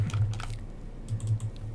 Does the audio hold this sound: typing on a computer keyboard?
yes